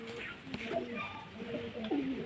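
Soft, throaty cooing from a male pigeon kept at home, faint and close against a murmur of background noise, with a low rolling coo near the end.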